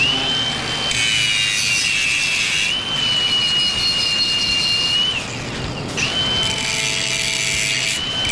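A steel bike rack has its welded corner cut away by a power tool grinding through the metal. A loud, continuous high whine with harsh rasping runs in long passes, briefly dropping off before the cut resumes, with no talk.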